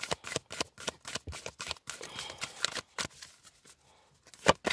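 Tarot cards riffled and cut by hand in a steady run of crisp, close flutters and snaps, with short pauses between bursts and a sharper snap at the end, no voice.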